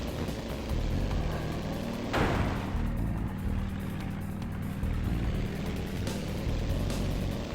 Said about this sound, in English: I also really like the engine sounds